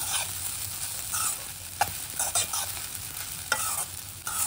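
Spoon stirring lemon juice into sabudana khichdi in a pan, irregular scraping and clinking strokes with a few sharper knocks over a soft sizzle, close and alone.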